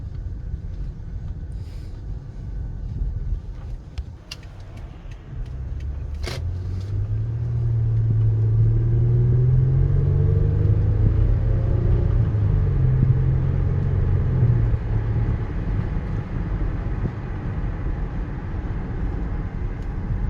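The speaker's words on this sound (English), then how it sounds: "Let's go for a test drive." A 2006 Lexus RX330 with about 126,000 miles pulls away on a test drive, its engine and road noise swelling into a loud, steady low rumble heard from inside the cabin after a couple of sharp clicks, with no talking.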